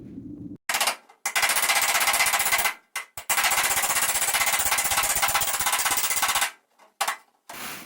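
MIG welding on a pickup truck bed fender replacement panel gives a loud, harsh buzzing crackle in long bursts of several seconds, separated by short silent pauses between welds.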